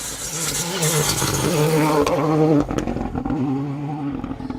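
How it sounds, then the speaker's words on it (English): A rally car passes through a Manx Rally stage on the Isle of Man, its engine droning loud and close with revving and gear changes, then easing off as it moves away. "Car number one, Neil Roskell and Andrew Roughhead, going well"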